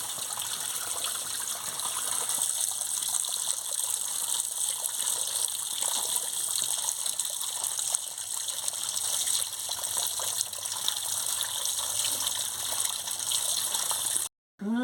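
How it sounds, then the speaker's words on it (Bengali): Chopped potatoes, eggplant and gima greens being washed in water, a steady running gush and splashing throughout, close and fairly loud, with no talk. "আলু, বেগুন, গিমা সব একসঙ্গে কেটে নিয়েছি। এবারে ভালো করে ধুয়ে নেব।"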